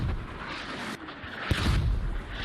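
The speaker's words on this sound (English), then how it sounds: "Smoke mortars." Smoke mortar rounds going off in a competitive tactical shooter match on the Fools Road map: dense, rumbling battle noise throughout, with a sharp thump midway followed by heavier booming.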